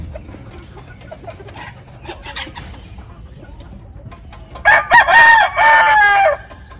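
Backyard hens cluck quietly and steadily, then a rooster bursts into a loud, close crow near the end, which dominates the scene.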